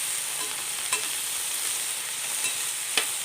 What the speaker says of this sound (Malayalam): വെണ്ടയ്ക്ക കരിഞ്ഞു പോകാതെ മീഡിയം ഫ്ലെയിമിലിട്ട് വേണം ഇതൊന്ന് വഴറ്റിയെടുക്കാൻ.